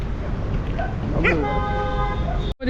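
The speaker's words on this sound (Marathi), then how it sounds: "एवढाले कुत्रे असते का कुठं" Dogs bark in a city street, with a short burst of barking and yips over steady traffic noise.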